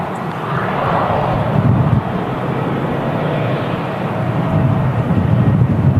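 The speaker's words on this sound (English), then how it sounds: "Boeing 777-300 ER coming in from Doha today." A Qatar Airways Boeing 777-300ER arrives from Doha on approach at Manchester Airport. Its jet roar is loud and sustained, swelling slightly as the airliner passes close by.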